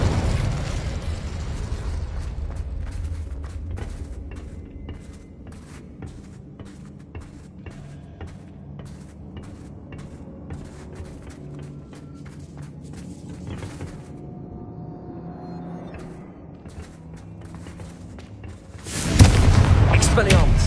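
Confringo blasting spells go off in Hogwarts Legacy on PS5, booming explosions that rumble through the opening, then quieter scattered impacts, ending with a loud blast; a voice is heard through it.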